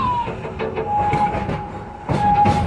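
The Serengeti Railway train at Busch Gardens runs along its track, giving off a steady rolling rumble with rhythmic clickety-clack, a sustained metallic squeal or whine, and a louder surge near the end.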